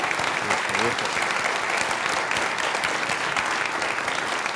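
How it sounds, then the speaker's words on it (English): An audience at a talk gives sustained applause, dense even clapping throughout with no break. "A round of applause for Suzanne, please."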